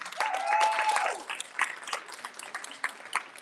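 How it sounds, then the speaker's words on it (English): Applause for parents at a Morgan Park High School eighth-grade luncheon, a brief burst of clapping from a gathered crowd, with cheering voices over it at the start, then fading into scattered individual claps. "Let's give the parents a round of applause."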